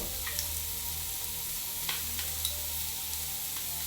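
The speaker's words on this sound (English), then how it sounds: "right now our chicken stock is on a high boil" Chicken stock at a high, rolling boil for a whole chicken dish, a steady bubbling hiss with small crackling pops, even and continuous at close range with no talking.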